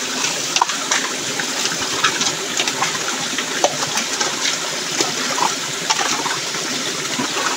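A rain-swollen creek flows steadily at a gold panning spot, giving a continuous rushing, gurgling wash with small splashes. It sounds close and moderately loud, with no speech heard.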